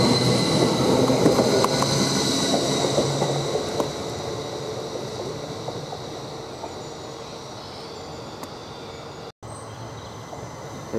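A British Rail Class 333 train passing at a distance, a steady broadband rumble of wheels and carriages that slowly fades away, with no talking.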